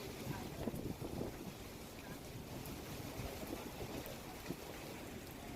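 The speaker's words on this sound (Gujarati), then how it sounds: "અત્યારે હાલ પવનના સુસવાટા દેખાઈ રહ્યા છે" Strong gusts of wind blow during a dust storm in the Navrangpura university area of Ahmedabad, making a steady, loud, broadband roar with small surges throughout.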